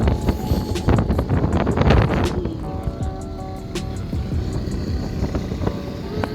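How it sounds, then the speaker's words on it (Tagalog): Heavy wind buffets the microphone in rough, rumbling gusts from a slowly moving vehicle, strongest early on and then easing into a steadier roar. "We're actually kind of going slow, pero lakas ng hangin."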